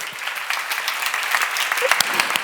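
Clapping from a church congregation at a Bible seminar builds steadily into a fuller wash of applause, with some voices faintly mixed in.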